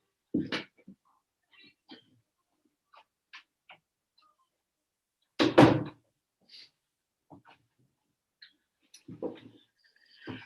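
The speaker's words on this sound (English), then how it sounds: "I'm just going to close the door." A door being pushed shut in a quiet room, with a solid thump partway through plus a few smaller knocks and handling clatters scattered before and after, fairly near and otherwise silent.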